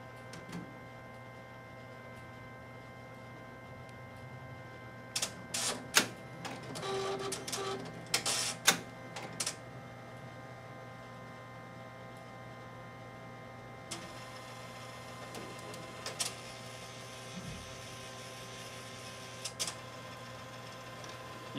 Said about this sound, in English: that bed belt does move forward and backward a couple of times